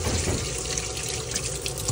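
Quail eggs are rinsed under a running tap, giving a steady hiss of flowing water splashing into a sink, continuous and close.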